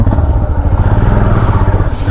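A motorcycle engine idles close by with a loud, steady, throbbing rumble and slight clatter, running without pause.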